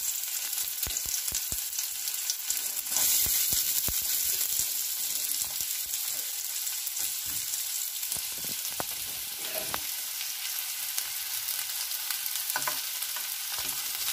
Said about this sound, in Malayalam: ഇവിടെ എണ്ണയൊക്കെ നന്നായി ചൂടായി വന്നിട്ട് അതിലേക്ക് നമ്മൾ ഉള്ളി ഇട്ട് കൊടുക്കുകയാണ് ചെയ്യുന്നത്.